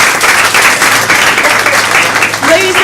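Loud applause from an audience at a dialogue event on bridging divides, a close burst of clapping lasting a few seconds with voices mixed in and a brief spoken or sung tone near the end.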